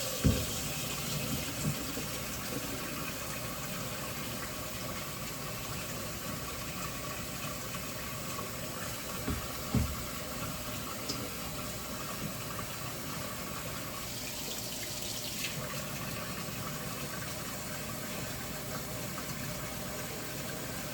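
Tap water runs steadily while raw skinless chicken is rinsed in a home kitchen for curry chicken, a low continuous wash with a brief stronger splash partway through and no talking.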